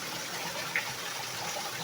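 Steady broadband rush of water at Balingasaw Falls in Merida, Leyte, a continuous even wash of flowing water with no talk over it.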